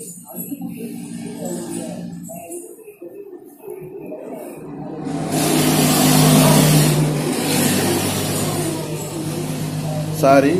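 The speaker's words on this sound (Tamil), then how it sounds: "இப்போ ஒரு லாரி போச்சு" A lorry passes close by on a road, its engine rumble rising after a few seconds of quieter background and staying loud as it goes past, with a brief voice early on.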